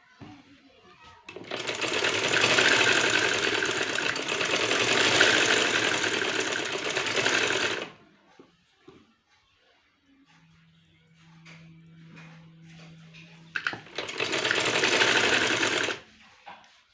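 A sewing machine runs in two long loud bursts, stitching along folded fabric for a palazzo trouser with pintucks and lace, with a quiet pause between the runs.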